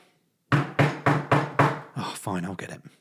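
Knocking on a front door, five firm evenly spaced knocks up close, followed by a short burst of speech-like sounds.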